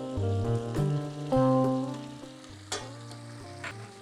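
Tomatoes frying in hot oil with fenugreek leaves while making aloo gobi masala, a close, short burst of sizzling and stirring that fades slightly.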